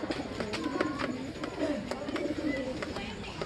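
Racing pigeons coo in soft, repeated throaty phrases at close range amid faint background murmur and clatter, the cooing recurring across the few seconds.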